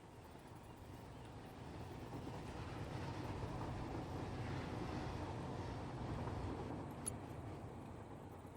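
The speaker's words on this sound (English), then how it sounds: "That's gonna bottom out the train for sure." A train running in the factory-building game Satisfactory, a steady low rumble that swells slightly mid-pass and holds loud and continuous throughout, with no talk over it.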